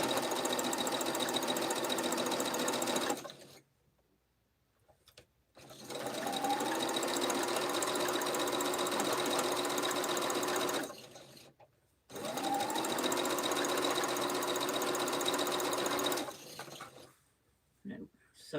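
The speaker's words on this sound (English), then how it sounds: "Sew the other piece on." A sewing machine stitches quilt fabric pieces for a tulip table runner in three long, steady runs of close, loud mechanical whirring, separated by short pauses of near silence.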